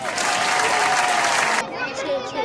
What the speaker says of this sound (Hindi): आप अपने लिए खुद ही तालियां बजा रहे हैं